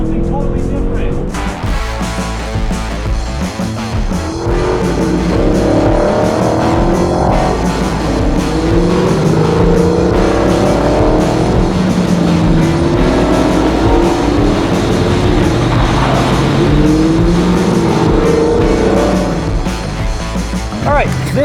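A powerful muscle car roars around a small oval track, its engine loud and continuous with repeated rising and falling sweeps as it accelerates and lifts, while a voice talks over it.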